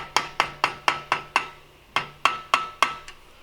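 A hammer taps a flathead screwdriver set in a notch on a bicycle's four-stroke motor part, making about eleven sharp metallic taps. They come in an even run of six, a short pause, then five more, close and clear.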